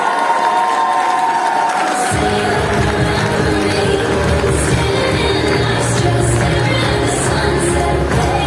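Loud crowd applause breaks out with cheering and whoops for a student at a Czech graduation ball sash ceremony, sustained clapping filling the hall after a brief quieter opening.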